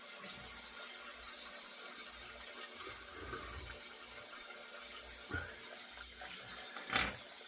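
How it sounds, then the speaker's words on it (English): Hot water running from a bathroom tap into a sink, a steady low wash of flowing water with a few soft knocks and splashes, fairly quiet and continuous. "I'm going to do the hot water"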